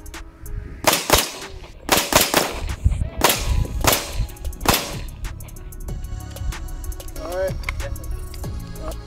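Several .45 ACP pistol shots fired at a mobile ballistic shield on a range: sharp, loud cracks in a loose irregular series, some in quick pairs, followed by quieter metallic clinks and faint background voices.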